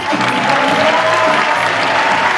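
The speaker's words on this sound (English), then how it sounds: "A very big round of applause." Crowd applause with some cheering fills the hall at a Supanova Perth cosplay contest, continuous and fairly loud, with faint voices mixed into the clapping.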